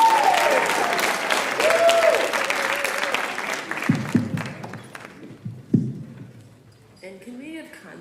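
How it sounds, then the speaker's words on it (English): Audience applause at a community day writers expo, steady clapping filling the room for several seconds before tapering off, with a few louder thumps and voices near the end. "Give her a round of applause"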